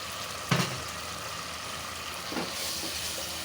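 Vegetables (turnip) go into a frying spice paste for a stinging catfish curry, setting off a steady, moderate sizzle and hiss. A spoon clinks and scrapes near the start and again later.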